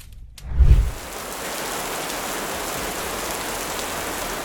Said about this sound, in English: Rain falls from the sky, soaking fields, filling rivers, and bringing life to the planet.